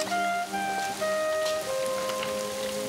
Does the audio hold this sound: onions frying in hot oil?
no